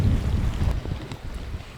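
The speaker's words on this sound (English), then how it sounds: "there's a nice cool breeze" A cool breeze buffets the microphone on a Prince Edward Island beach, loud low rumbling gusts that ease off partway through, with faint surf behind.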